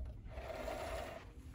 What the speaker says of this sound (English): Sewing one piece of fabric to, well,